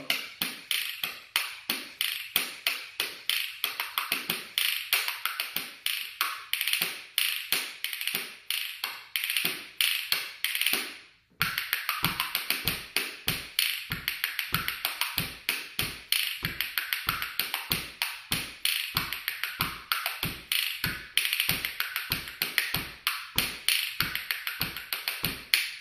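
Wooden musical spoons played close in a simple, steady tapping pattern, crisp rapid clicks with a short pause partway through before the rhythm resumes.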